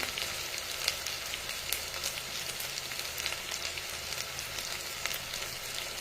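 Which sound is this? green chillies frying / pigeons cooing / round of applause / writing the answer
green chillies frying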